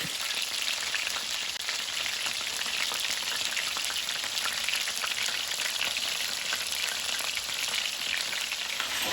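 Steady, dense sizzling of chicken wings frying in a pan, loud and continuous throughout, with no talking.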